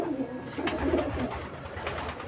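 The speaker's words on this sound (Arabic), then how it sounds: "حمام واقف في قلب البطانيات، حمام في البطانيه" Pigeons in a loft coo softly among blankets, a few low, close, rounded calls over a quiet background.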